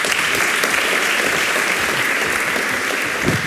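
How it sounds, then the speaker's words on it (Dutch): Warm audience applause at a talk on Shell's political history, a loud, dense and unbroken roar of many hands clapping, steady from start to finish. "Geef ze een warm applaus."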